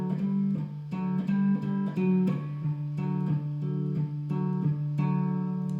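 Close, clean guitar works through the first intro pattern of a song, a steady repeating run of plucked notes and brief strums that ring together, played alone without any voice.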